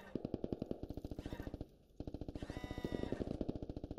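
Rapid bursts of automatic gunfire from buildings in the game Squad, set in the streets of Narva, hammer almost continuously with a short lull near the middle, loud and close.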